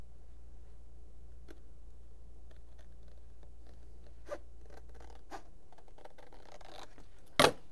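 Scissors or a blade snip through paper for a mini-album base, a series of faint, quiet cuts and light scratches close by in a hushed room, ending with one sharper rustle.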